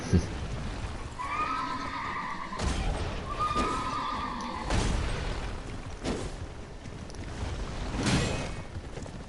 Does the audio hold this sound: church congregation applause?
no